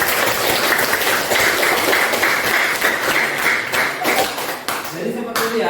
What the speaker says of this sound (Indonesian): Berikan tepuk yang paling meriah.